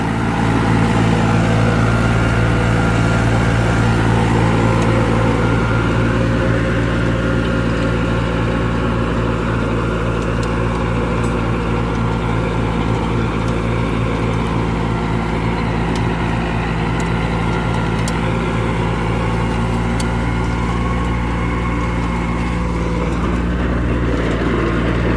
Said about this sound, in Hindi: ये देखो किसान भाइयों किस तरह से ट्रैक्टर माटी फेंक रहा है पीछे